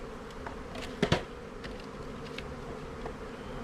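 Honey bees buzz steadily around the front entrance of a hive while a newly installed package settles in, with a dense, continuous hum and a couple of brief louder knocks near the start.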